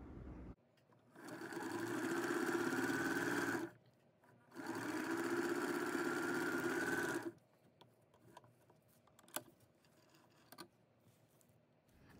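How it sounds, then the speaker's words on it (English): A sewing machine stitches a straight line on a fabric kids mask in two steady bursts of rapid whirring, close and fairly quiet, followed by soft handling clicks and rustles. "I am sewing a line straight down to keep it from coming up."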